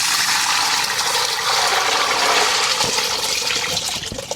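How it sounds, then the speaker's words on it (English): Water tipped out of a reinforced camper van bath into a bucket: a steady, loud rushing pour that runs the whole time, close by and alone. "I'm just going to tip all that water"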